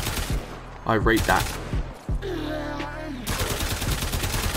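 Bursts of rapid, evenly spaced shots from a Braton Prime assault rifle in Warframe, loud and close, broken by a short pause while someone speaks briefly before the firing resumes.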